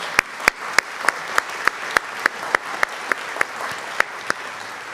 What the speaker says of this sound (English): Please join me in giving our LCA staff a well-deserved round of applause.